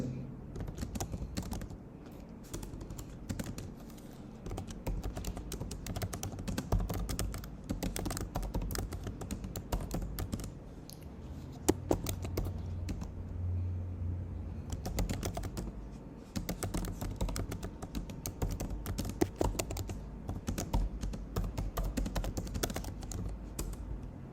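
Rapid, continuous clicking of a computer keyboard as a job proposal is typed, irregular bursts of keystrokes with brief pauses, close and moderately quiet, with no talking.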